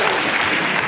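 Audience applause at a debate on whether Western values are superior: a dense, steady wash of many hands clapping, filling the whole brief moment at even loudness.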